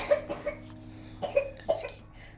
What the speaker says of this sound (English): that was my son coughing in the background